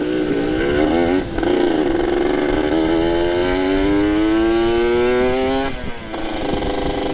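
A Kawasaki Ninja RR motorcycle pulls away with a loud two-stroke engine, revving up through rising pitch, a brief gear change midway, then climbing again, close by.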